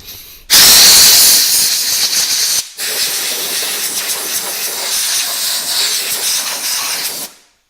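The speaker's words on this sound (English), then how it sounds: "The first thing I'm going to do before I shut the power off to this is to blow it off with the air compressor itself." A Quincy air compressor's nozzle blows compressed air to clear dust and debris. Two long, loud hissing blasts come close up, split by a brief pause.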